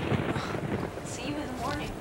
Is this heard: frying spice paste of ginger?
no